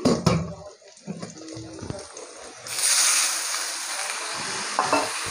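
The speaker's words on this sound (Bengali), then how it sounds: "এবার জল দিয়ে দেবো" Water is poured into a pan of fried taro and potatoes, a sudden hissing splash and sizzle after a few light knocks and clatters, close by.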